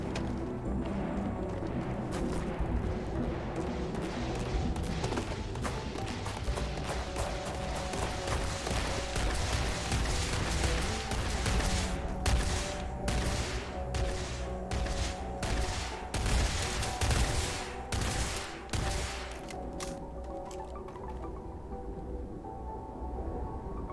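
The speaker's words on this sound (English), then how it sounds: "he won't stop firing if I'm in the line of sight" Sustained gunfire in the sci-fi game Starfield, with dense rapid shots over a steady background din and a sharper run of distinct cracks midway, continuous and fairly loud throughout.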